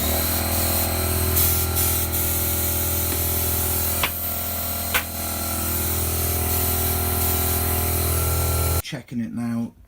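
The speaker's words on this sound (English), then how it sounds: "so that I can get the end of the compressor in there" An air compressor inflating a tubeless Maxxis Tomahawk bike tyre makes a loud, steady hissing rush of air, a few sharp clicks breaking through midway, before it cuts off and a voice talks briefly at the end.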